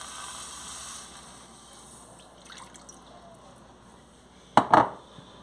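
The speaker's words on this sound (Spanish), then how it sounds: "voy a poner una taza de agua" A cup of water is poured into a pot for steamed white rice in a home kitchen. After a quiet stretch with faint drips, a short, close, splashy pour bursts out near the end.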